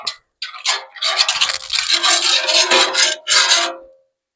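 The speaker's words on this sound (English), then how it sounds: "I'm going to take a spatula and we're going to kind of spread that around a little bit." A metal spatula scrapes and spreads food across a hot Blackstone griddle, making loud, close rasping strokes in a few quick bursts with brief pauses between them.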